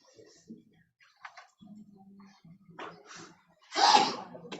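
A single sharp sneeze bursts out near the end during a school board meeting, louder than the faint talk and room noise before it.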